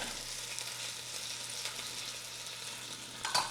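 Venison shanks brown in a hot pan, giving a steady, close frying sizzle that hisses evenly throughout, with a slight stir or clatter near the end.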